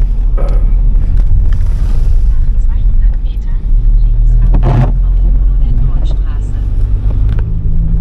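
A car interior hums with a steady, loud low rumble while driving through Aurich in Ostfriesland on a scrap-collecting run, with someone talking over it.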